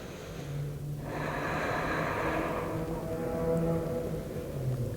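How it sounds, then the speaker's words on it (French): A slow, deep breath drawn and released close by while holding a pose in a beginner yoga session, a soft airy rush over a low steady hum, with no talking. "Encore 3 respirations. Encore 2."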